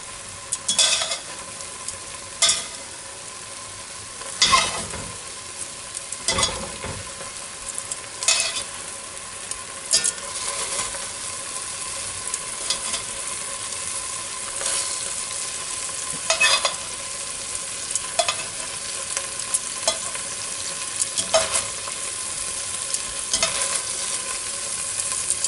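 Beef pieces for beef stroganoff sizzle steadily in a hot pan as they are moved in, with occasional sharp clinks and scrapes of a utensil against the pan punctuating the constant frying hiss.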